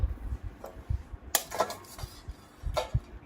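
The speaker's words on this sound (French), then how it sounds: "On va casser des œufs dans ça, comme ça on va enlever les coquilles." Eggs cracked against a bowl with clinks, taps and scrapes of shell, several brief knocks spread unevenly, close and fairly quiet.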